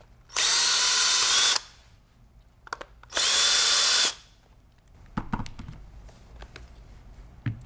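A power screwdriver backs two Phillips head screws out of the recoil pad on a Benelli 828 U over-and-under shotgun, giving two sharp whirring bursts followed by small clicks and handling noises.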